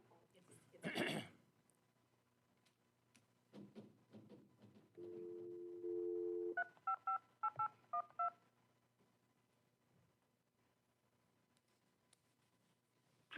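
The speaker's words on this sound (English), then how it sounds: "Please enter your participant or moderator code followed by the pound key." Telephone keypad tones entering a conference call code, a long held tone followed by a quick run of about eight short beeps, clear and close in an otherwise quiet setting.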